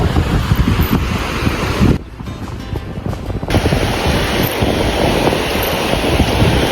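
Surf rolling onto the beach at Yeppoon on a fine day, a steady broadband wash of breaking waves with wind buffeting the microphone, loud and continuous apart from a brief dip in the middle.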